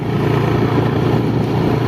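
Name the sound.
motorcycle being ridden in the morning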